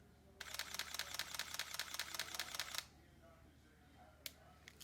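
A Sony a9 shutter fires in a rapid high-frame-rate burst of about twenty crisp, evenly spaced clicks over two seconds, close and clear in a quiet room, followed by a couple of isolated clicks.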